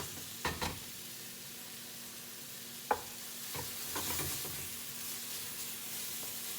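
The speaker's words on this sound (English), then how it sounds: "Stir the tomato paste in and have some liquid ready to deglaze" Tomato paste being stirred into onions sweating in a pan: a soft steady sizzle with scraping utensil strokes, a few sharper knocks against the pan near the start and middle, close and moderately quiet with no talk.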